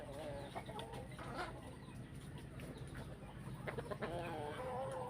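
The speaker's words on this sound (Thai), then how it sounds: "ไก่อะไรไล่กันนะครับ" Several chickens cluck and squawk close by in irregular bursts, with a steady low background hum underneath.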